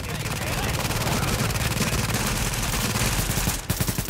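Rapid suppressed rifle gunfire in The Division video game, a dense continuous burst of muffled shots that stops abruptly near the end, followed by a few mechanical clicks, with players' voices underneath.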